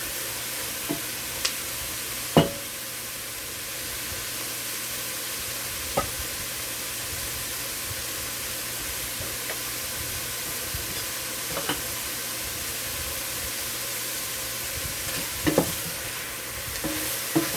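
Shrimp fry in a pan with water added for shrimp fried rice, giving a steady broadband sizzle throughout with occasional sharp clicks and scrapes of stirring, close up and with no voices.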